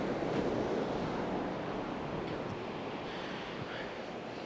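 Sea waves roll onto the Norfolk coast in a steady, loud wash of surf, with gusts of wind buffeting the microphone throughout and no voices.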